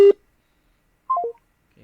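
Cellphone keypad dialing tones: three short electronic beeps in quick succession, each a little lower in pitch than the last, clear and close with silence around them.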